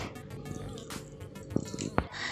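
Boiled potatoes are mashed for a curry, giving soft, wet squishing and a few sharper squelches close up over a muffled background.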